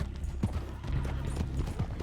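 Horse hooves galloping in the video game Red Dead Online, a rapid continuous clip-clop rhythm close up and fairly loud, with no talk over it.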